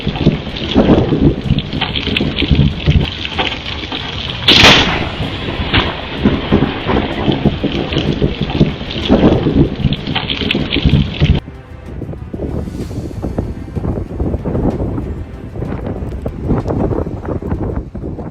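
Heavy rain lashes a city during a thunderstorm with a barrage of lightning, steady loud downpour and wind broken by sharp thunder cracks and rumbles, the roar easing slightly partway through.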